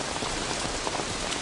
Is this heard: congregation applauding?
no